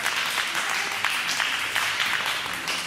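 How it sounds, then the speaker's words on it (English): An audience applauding steadily, a dense wash of many hands clapping that holds at an even loudness from start to finish, with no one talking over it. "Yeah, you can clap."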